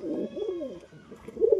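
Pigeons coo in soft, rounded throaty phrases close by, two or three rolling calls in quick succession over quiet surroundings.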